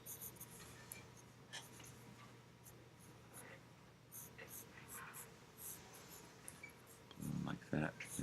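Pen scratching on paper while drawing snowdrifts in a perspective sketch, faint soft strokes heard under low background hiss, with a louder handling noise near the end.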